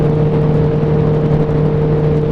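Suzuki Bandit motorcycle engine running during a ride, heard close and loud as a steady, even mid-pitched hum with strong tonal harmonics, constant throughout with no speech.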